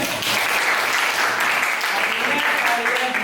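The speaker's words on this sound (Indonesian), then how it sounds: "Beri tepuk tangan untuk kalian semuanya." Students in a classroom applaud together, a steady wash of clapping held at constant loudness throughout, with some voices mixed in.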